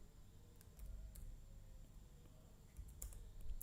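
Someone types a short command on a computer keyboard in a quiet room, a few faint scattered key clicks in two small bursts over a low hum.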